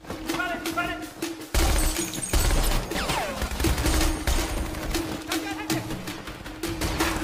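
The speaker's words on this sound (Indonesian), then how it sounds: "Aksi tembak-menembak antar kedua belah pihak pun terjadi memperebutkan drive-nya" A film shootout erupts with loud, dense bursts of gunfire, cracking shots and shattering impacts in rapid succession, under a narrator's voice.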